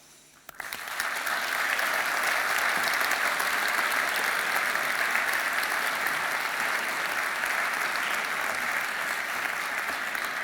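After a brief quiet start, a large audience breaks into loud, steady applause at a design presentation, dense and unbroken for the rest of the stretch.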